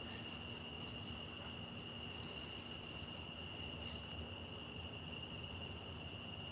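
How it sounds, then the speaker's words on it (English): Steady nighttime cricket chorus in a quiet residential neighborhood, a faint continuous high-pitched trill that never breaks, with no voices. "So it was cicadas before this, and then it switches to crickets, and this sound is all night long."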